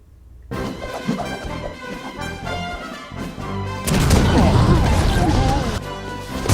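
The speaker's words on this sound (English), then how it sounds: "Explosions! Lots of explosions!" Loud cartoon explosions and crashing blasts from the animated film Foodfight! pile up in a dense barrage, building to a sustained roar of battle noise, with a narrating voice heard partway through.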